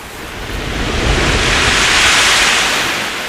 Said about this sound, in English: Look! The sea is pulling far away.